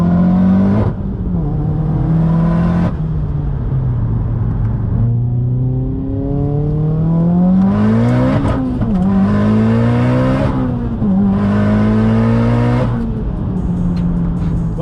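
A car cruising and shifting gears at low RPM, its engine droning and rising with each gear, the revs dropping briefly at every shift in a loud, close pass of several shifts.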